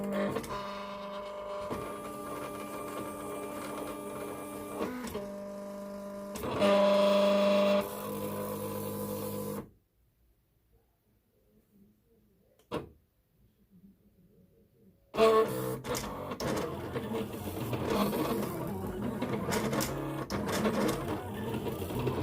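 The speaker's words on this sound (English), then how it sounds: "send it to the cutter. Okay, it's fixing to read the registration marks." A Silhouette cutter reads registration marks on printable vinyl, giving steady mechanical whirring and motor hum with a louder burst partway through, then a few seconds of near silence before the machine noise resumes.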